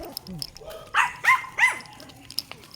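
Several dog barks, likely from the small dogs Choco and Kelly on a Sunday walk, come as three or four sharp mid-distance bursts in a row, with faint talk and outdoor background around them.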